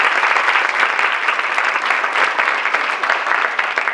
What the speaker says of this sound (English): so we give her a round of applause.